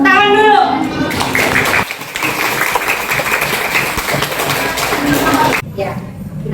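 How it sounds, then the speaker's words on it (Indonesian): Children in an Indonesian classroom clap their hands together in a dense, sustained burst lasting several seconds, with a voice and a teacher's speech at the edges. "Bintang, tepuk tangan dulu."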